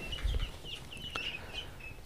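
Chickens cluck softly in short, scattered calls on a poultry farm, fairly close, with light rustling and no one talking.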